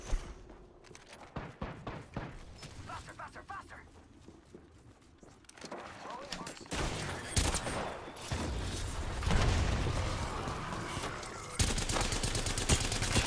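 Video game gunfire: rapid bursts and volleys of shots, with some thuds and footstep-like taps, growing denser and louder in the second half and running continuously toward the end.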